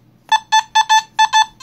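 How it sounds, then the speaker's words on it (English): Held close, a Nokta Simplex metal detector answers a dime with its high tone, giving about six short, loud beeps in a slightly uneven run against a quiet background. "Dime is going to give you a high conductor"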